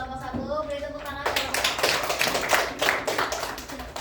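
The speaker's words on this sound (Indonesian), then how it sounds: "Beri tepuk tangan." A classroom group claps after a group presentation during a microteaching session. A voice is heard briefly, then scattered close clapping builds into a short round of applause.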